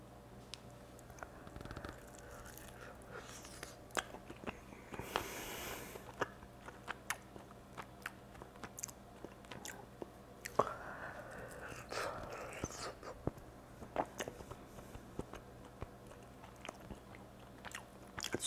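Close-up biting and chewing of a chicken wing, with moist crunches and squishy mastication sounds recurring irregularly, loud bursts mixed with quieter pauses.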